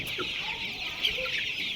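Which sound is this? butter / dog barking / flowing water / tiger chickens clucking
tiger chickens clucking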